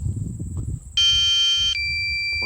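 A drone controller's low battery warning: a single sustained electronic beep tone sounds for under a second, then continues at a lower level, with faint handling noise before it.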